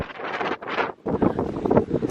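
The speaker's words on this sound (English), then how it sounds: "It's just the wind." Strong wind at the beach buffets the microphone in loud, roaring gusts, with a brief lull near the middle before the blustery rumble returns.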